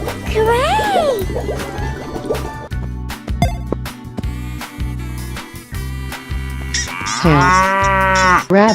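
A cartoon cow moos loudly in a children's animal animation, with playful music and splashy sound effects around the call.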